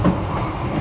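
A Kamandaka economy-class train on the Semarang route rumbles steadily along the rails, a continuous close, even roar with no clear clacks standing out.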